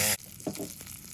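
Limpets frying in a pan on a camping BBQ, a brief loud burst of sizzle followed by quieter crackling and the scrape of the shellfish being stirred or flipped.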